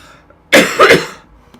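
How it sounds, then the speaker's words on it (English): A single loud cough burst, two quick harsh pulses close together, then quiet. "I'm going to cough"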